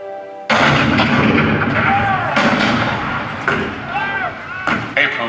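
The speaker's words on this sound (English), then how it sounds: "The cannon spoke for war, bitter, violent, and devastating." Cannon fire in a Fort Sumter battle scene of a theme-park history show, a loud, dense barrage of booming blasts rolling continuously, with sharper reports landing every second or so over a heavy rumble.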